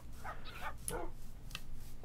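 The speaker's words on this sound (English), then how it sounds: "Bark, bark, bark" A dog barks in a few quick, close, fairly loud bursts, with short yipping notes between them over a low steady background.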